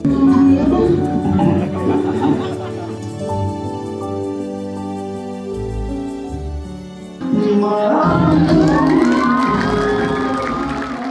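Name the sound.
audience applauding and cheering at film premiere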